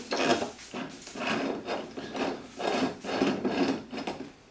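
A hand wrench tightening the small screws of Flex tool mounts onto a StackPack tool box, heard as a close, steady scraping and ratcheting rasp in repeated strokes with no talking.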